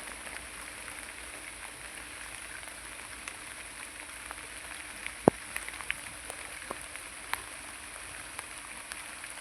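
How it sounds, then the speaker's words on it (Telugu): Steady light rain hisses in the background, with occasional sharp drops tapping nearby. "వర్షం అయితే స్టార్ట్ అయింది"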